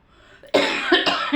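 A short fit of harsh coughing, three or four coughs in quick succession, close and loud.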